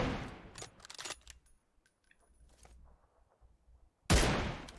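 M24 sniper rifle fire in PUBG Mobile, a sharp loud crack at the start and another near the end, with a few fainter clicks and quiet stretches between.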